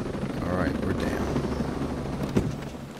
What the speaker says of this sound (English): I'm probably going to hit a tree trying to land this helicopter